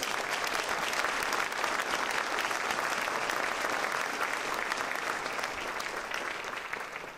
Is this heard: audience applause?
yes